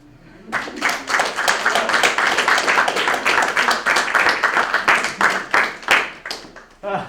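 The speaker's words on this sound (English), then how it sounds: "Stop the applause" An audience at a comedy roast of the year gives steady applause, dense overlapping clapping that starts abruptly, holds loud for several seconds and begins to thin toward the end.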